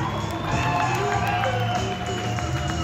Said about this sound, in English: Let's give these guys a huge round of applause